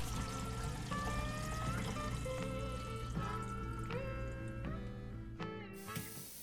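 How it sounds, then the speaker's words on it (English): Water from a newly installed faucet pours into a shop utility sink basin as it fills, a steady splashing stream with rising ringing tones as the level climbs, then a brief change near the end. "Now I'm going to fill the basin up about halfway and then let it drain"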